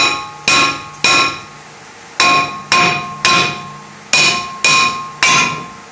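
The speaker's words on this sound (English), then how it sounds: "He's getting ready to smack his rotor." A hammer strikes the brake rotor of a 2008 Ford Escape eight times, each loud metallic blow ringing out in a steady rhythm with short pauses between hits, close and without talk.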